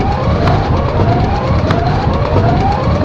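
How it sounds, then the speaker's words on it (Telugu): Alarm siren of a Trueview solar CCTV camera wailing in repeated rising sweeps, loud and close, cycling steadily across the whole stretch with no talk. "ఈ కెమెరాలో ఉన్న సైరన్ ఆటోమేటిక్గా ఆన్ అయి సైరన్ వస్తుంది"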